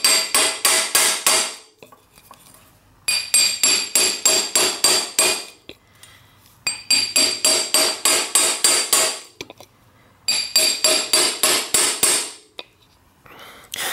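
Hammer striking a bicycle crank arm to knock it off the spindle, loud metallic blows in three rapid bursts of about eight to ten hits each, separated by short pauses.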